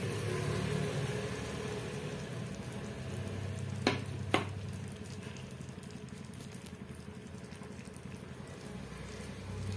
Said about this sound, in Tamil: நம்ம அரைச்சு வச்சிருக்கிற பீட்ரூட்டை சேர்த்துடலாம்